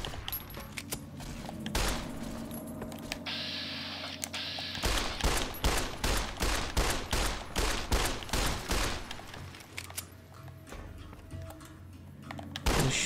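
Rapid gunfire in Fallout: New Vegas, a fast rhythmic string of loud shots in the middle of the stretch, with scattered game sounds before and after.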